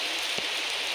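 Steady monsoon rain pours in the Konkan region while a traveller waits for an ST bus, a dense even hiss of drops that stays constant and fairly close throughout the short moment.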